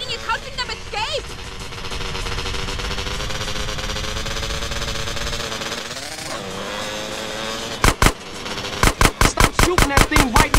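Gunfire in Grand Theft Auto: San Andreas during a car chase: a loud engine drones under voices, then sharp bursts of rapid automatic shots ring out close near the end.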